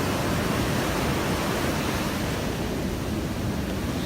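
Big surf smashing onto Ocean Beach on the Central Coast of New South Wales as high tide approaches, a loud continuous roar of crashing waves and wind noise with no voices.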